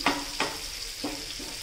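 Katla fish pieces cooking on slow heat in a pan, a steady close sizzle punctuated by a few soft clinks of a utensil turning them.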